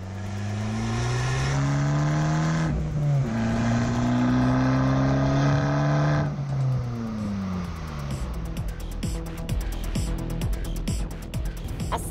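Abarth 595 Competizione engine revving hard, pitch climbing through the gears in long pulls with brief drops at shifts, loud and close, ending in a rougher, burbling stretch.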